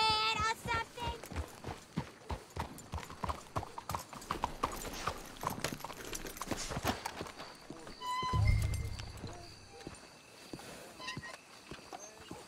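Horses in Red Dead Redemption 2 walk with a steady clip-clop of hooves, close and fairly quiet, while characters talk over the top and a brief low rumble swells near the end.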